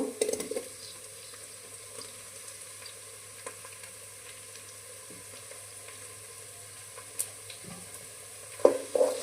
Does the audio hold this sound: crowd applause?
no